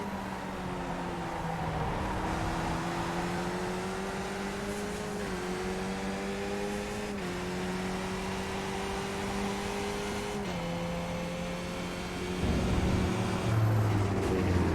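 Skip Barber race car engine at Interlagos in a racing video game, a steady high whine holding pitch through the gears, with a brief shift dip and a rougher rumble near the end.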